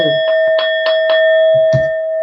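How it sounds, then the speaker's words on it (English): A bell rings in a quick series of bright, sustained chimes over a steady held tone, close and fairly loud, with a low thud near the end. "Let me ring the bell for you."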